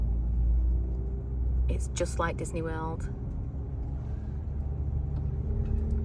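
Car engine rumbles at low pitch while a learner drives slowly around a car park, a steady hum running beneath people talking inside the car.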